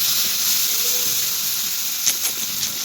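Moong dal dhirde batter cooking in oil on a pan gives a steady, close sizzling hiss throughout, with a few brief louder crackles near the end.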